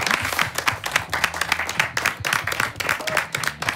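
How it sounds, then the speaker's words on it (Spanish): Lively applause on a weekend rugby program, with a crowd clapping loudly and fast in a dense rhythmic pattern, some individual claps standing out and faint voices mixed in. "¡Aplausos para ustedes!"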